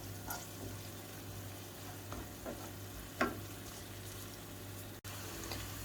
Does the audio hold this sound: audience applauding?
no